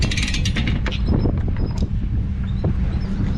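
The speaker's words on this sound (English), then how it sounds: "So you want to take this winch strap off at the last minute." A boat trailer winch strap being released at a boat ramp, heard as creaking mechanical clicks and rattles over steady wind noise and low rumble, close to the microphone.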